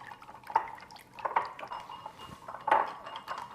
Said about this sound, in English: You just want to take a whisk and just kind of mix this vigorously until it emulsifies